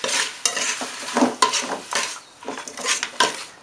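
Curry paste and chicken dry-frying in a pan over medium-low heat, with repeated close scraping and stirring strokes of a utensil against the pan and a light sizzle, in an irregular rhythm with no talk.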